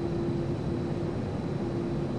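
An airplane engine in the video game GTA San Andreas drones steadily with a constant hum and broadband roar, unchanging throughout and without talking.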